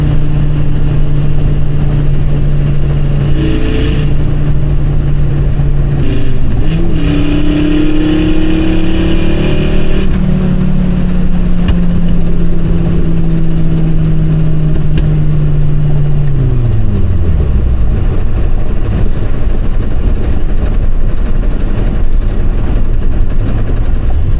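A 5-cylinder engine swapped into a Mk2 Golf GTI runs loud and close, its tone climbing through a few revs, holding high, then sinking back toward idle over a long continuous stretch.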